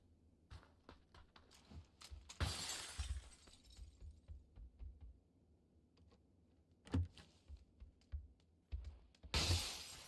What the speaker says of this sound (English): And we're crashing the windows